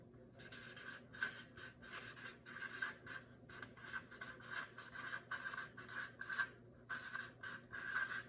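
Marker or chalk writing on a board during an organic chemistry lesson, a steady run of close scratchy strokes with brief pauses between words, no talking.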